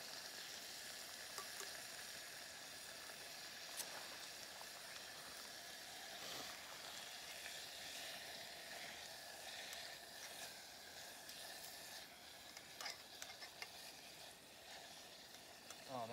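Bacon frying in a pan at a lakeside campsite, a steady soft crackling sizzle running throughout at moderate distance, with occasional small pops and clicks.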